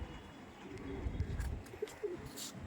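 A Delhi Madrasi pigeon coos softly in a few low, brief murmurs, heard close against a low rumbling background with faint chirps.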